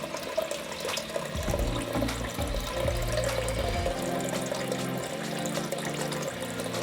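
Water runs through a newly installed Tushy Classic bidet being tested, a steady close rushing hiss with shifting low gurgling flow, heard alone without speech.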